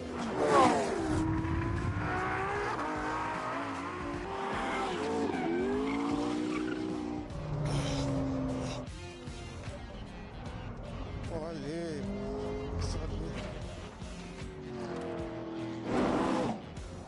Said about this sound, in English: Jerome took the cars out to get a sense of how they handled.